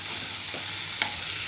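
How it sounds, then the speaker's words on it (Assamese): Chickpeas and potatoes fry in a pan with a soft, steady sizzling hiss, and a faint brief stir or scrape comes partway through. "এয়া ভাজি আছোঁ মই।"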